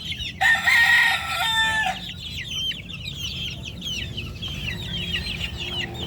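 Chickens and chicks in a fly pen, with a loud crow-like call near the start followed by steady chirping and clucking, close by over a low background hum.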